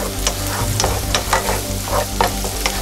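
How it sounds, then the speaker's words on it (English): Shallots sauteing in olive oil and butter in a pan over medium-high heat, a steady close sizzle with periodic scraping stirs throughout. "we're going to saute these shallots for about 3 minutes or so"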